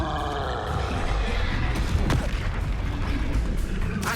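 A Confringo fire spell detonates in the video game Hogwarts Legacy with a dense, rumbling boom and crackling blast noise that carries on steadily for several seconds, with a sharp crack near the middle.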